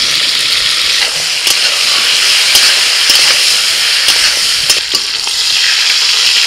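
Pointed gourd (potol) seasoned with salt and turmeric frying in hot oil, a close, steady sizzle with occasional stirring clicks and scrapes, no talk.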